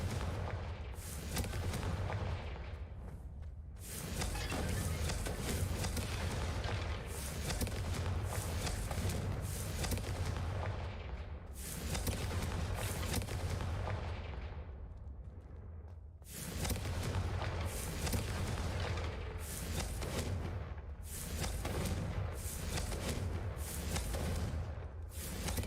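Confringo blasting spells in the game Hogwarts Legacy set off repeated heavy explosions, deep rumbling booms in long roaring bursts separated by brief dips, loud and without speech.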